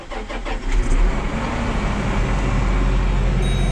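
A truck engine cranks and catches, then settles into a loud, steady idle close by, with no talk over it.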